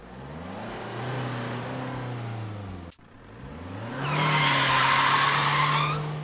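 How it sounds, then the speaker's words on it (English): In a video game, a car engine revs and drones, then tires squeal loudly in a long skidding screech as the vehicle brakes hard, fairly close and loud. "the vehicle abruptly screeches to a halt beside you"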